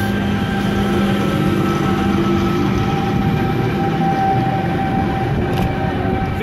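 An eight-car passenger train idles at a platform at Broadmeadow station with a steady mechanical hum and rumble, a constant loud drone with faint tonal whines and no voices.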